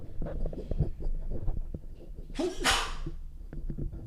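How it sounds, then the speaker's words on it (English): A single loud sneeze bursts out in the middle, sharp and close, with a brief intake just before it over a low background hum. "I sneeze."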